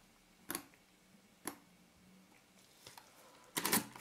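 A Voigtländer Vitessa camera shutter fires in a few sharp, faint clicks, followed by a short burst of quick ticking from the slow-speed gear mechanism at close range.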